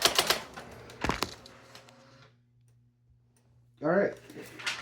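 A Brother GX-6750 electronic typewriter types a letter with a few sharp, loud mechanical clacks close up, then falls quiet. A person starts speaking near the end.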